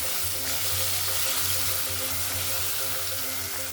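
Ginger garlic paste sizzles steadily in a hot pan while cooking Karachi-style aloo biryani, a dense continuous frying hiss with soft bubbling, close and alone without talk.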